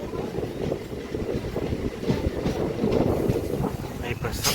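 An MMTS local train rumbles alongside Platform 1 at Gullam Pochampally railway station, with a continuous loud roar, wheel clatter and wind buffeting, and a person speaking over it.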